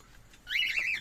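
A pet cockatiel in a breeding setup gives a short bright call that swells in the second half, fairly close and alone with no talking.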